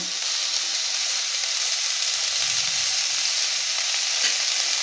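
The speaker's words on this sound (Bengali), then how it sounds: "এগুলো সমস্ত কিছু আমি ভালো করে একটু ভেজে নেব" Onion, tomato and other vegetables fry with salt in a pan, giving a steady, loud, close sizzle that runs unbroken the whole time with no voices.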